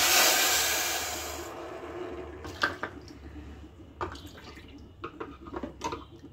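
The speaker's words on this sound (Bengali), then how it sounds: "দু কাপ জল দিলাম" Two cups of water pour into a pot for a thin sugar syrup, a rushing pour that fades out over the first second and a half, followed by scattered drips and light clinks against the pot.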